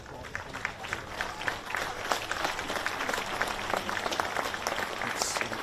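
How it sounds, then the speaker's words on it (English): The home crowd at a VFL football match between Werribee and the GWS Giants applauds an injured player leaving the ground, sustained clapping from the stands with a commentator's voice over the top. "It's encouraging applause from the Werribee crowd down here as well"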